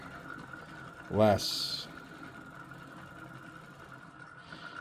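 A pulse motor rotor with low drag spins beside a trifilar coil, giving a steady mechanical whir and hum at a constant pitch, interrupted briefly by a short spoken word and a sharper burst.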